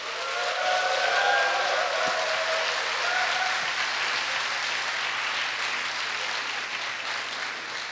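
Steady audience applause at a Korea University alumni choir festival welcomes the class of 1982 choir onto the stage, a continuous wash of clapping from a large hall crowd with a low hum underneath.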